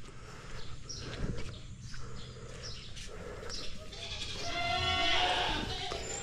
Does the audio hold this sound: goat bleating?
yes